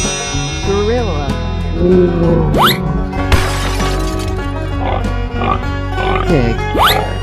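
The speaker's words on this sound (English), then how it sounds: "Pig." A pig oinking in an escape room guessing video game, with short grunts and squeals among music, a shattering crash and game effects.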